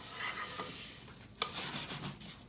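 Chopped onions toasting in oil over high heat for risotto, a soft steady sizzle with occasional stirring scrapes, fairly quiet and close.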